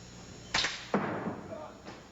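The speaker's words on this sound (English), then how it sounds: "that made that big slap sound, that's just 2x4s that have a hinge, and it just slaps together like that" Hinged wooden 2x4 slapstick snapping shut, played by a percussion ensemble behind a professional wrestling match: two sharp, loud slaps about half a second apart, then a fainter third hit, over a busy background din.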